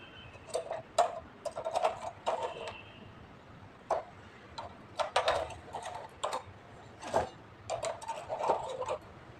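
Needles being pushed forward on a domestic knitting machine while casting on 60 stitches for a sweater, heard as a series of light, sharp clicks and ticks in uneven bursts, close by and without talk.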